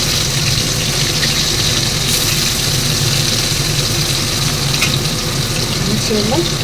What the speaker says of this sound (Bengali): একটু হালকা হাতে ভেজে নেবো এখানে